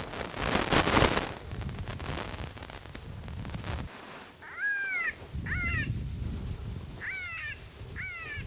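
Electronic predator call blaring a rabbit distress sound at high volume across open Colorado hillside, repeated wavering squeals in short bursts over steady wind noise, with a loud gust or handling thump near the start.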